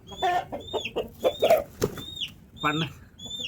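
A gala fighting rooster kept for sale clucks and calls close by in a run of short, repeated squawks with brief pauses between them.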